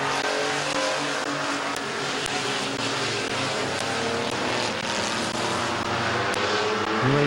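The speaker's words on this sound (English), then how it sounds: "That 29 is driving the wheels off that truck." Race trucks roar around a speedway in a loud, continuous pack, engines droning and layered with a rising rev near the end, close and unbroken throughout.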